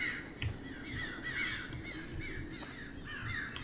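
Crows in a parking lot in the horror game Those Who Remain caw repeatedly in a loose, overlapping flock, harsh calls rising and falling at moderate distance over a low rumbling ambience.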